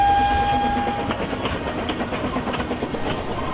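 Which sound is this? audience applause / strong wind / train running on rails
train running on rails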